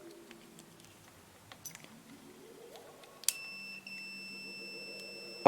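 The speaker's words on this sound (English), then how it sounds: "Let's try some continuity on it." A multimeter sounds a steady continuity beep when tested across an on-off switch salvaged from an old radio chassis, preceded by faint probe scrapes and handling, the tone close and clear, cut off by a sharp click at the end.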